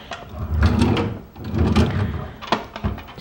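Dresser drawers are pulled open and pushed shut in a bedroom being packed up for moving home, giving several close wooden sliding thuds and knocks in quick succession, with no talking.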